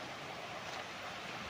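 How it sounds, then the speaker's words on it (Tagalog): River beside a camping site in Liliw, Laguna, where water pools behind a stone barrier, heard as a steady, faint broadband rush of flowing water with no talk. "Yan ang ilog."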